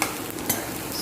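Onions, slit green chilies and drumstick pieces frying in a pan for a drumstick bhaji, giving a steady close sizzle with a brief stirring scrape partway through.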